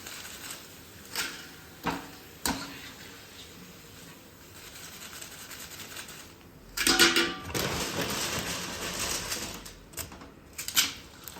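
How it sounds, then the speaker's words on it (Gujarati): Puffed rice chevdo stirred in a plastic tub: scattered rattling and scraping, then a louder burst of rustling and clattering about midway, close and without talk. "પછી પ્લાસ્ટિકનું એક ટબ છે એમાં બધા મિક્સ કરી દેશું."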